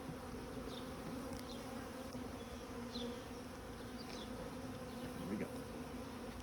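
Honey bees from newly installed packages buzz faintly but steadily around a hive, with occasional individual bees flying close past; no talking.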